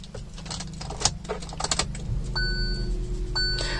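Car key going into the ignition of a Hyundai Venue, metallic keys jangling and clicking close by for several seconds, with a steady low vehicle hum and a couple of brief electronic tones.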